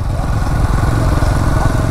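TVS Apache RTR 200 4V Race Edition motorcycle engine running in sport mode, a loud, steady, close mid-pitched engine drone with a fast pulsing beat that holds throughout.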